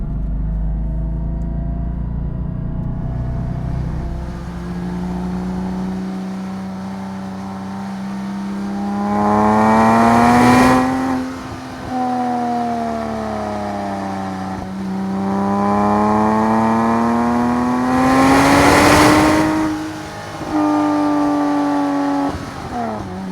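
A Porsche 718 Cayman engine, the Style Edition, revving hard through the range on a road drive, rising and falling in two long sweeps with loud climbs to high RPM and dips back down, heard alone from inside the car.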